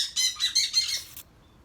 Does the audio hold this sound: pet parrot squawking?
yes